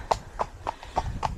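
Horse hooves trotting on hard ground, a large gentle draught-type horse, giving five crisp, evenly spaced clip-clop strikes close by with no talk over them.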